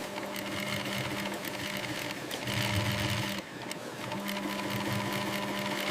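An industrial sewing machine stitches gaming chair upholstery on a factory floor, giving a loud, steady mechanical whir that runs continuously for about six seconds, with a brief easing midway.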